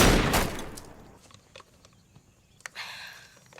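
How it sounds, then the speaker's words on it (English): A pistol fires during shooting practice in a film, with one loud sharp shot up front ringing off into a decaying tail, followed by a few fainter, scattered reports and clicks, with no talking. "Elsewhere, Briggs teaches Brooke how to shoot."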